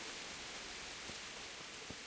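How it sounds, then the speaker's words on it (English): Steady rain falls in the medieval game Kingdom Come Deliverance, a dense even hiss of drops with a few soft close patters, faint and constant throughout with no voices. "Out in the rain."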